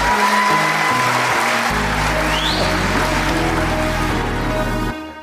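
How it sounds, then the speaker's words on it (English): Studio audience applause welcoming a guest on a local children's garden program: a thick, continuous roar of clapping layered over a steady musical bed, running evenly before cutting off abruptly near the end. "I promised you thunderous applause, but our studio audience was a little bit slow today."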